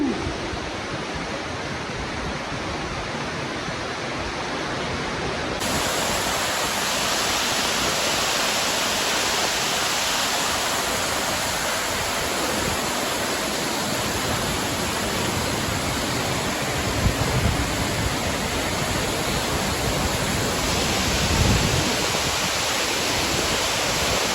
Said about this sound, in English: I'm at the waterfall and it's right gushing